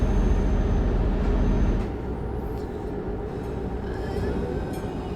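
A train rolls past in Euro Truck Simulator 2, a continuous low rumble and rattle that starts heavy and eases slightly, with faint high squeals overhead and no talking.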